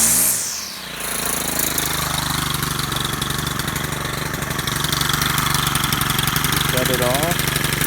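A Stihl FS100RX string trimmer's small engine runs continuously, a loud steady idle with the throttle lifting into higher revs, heard close up and alone.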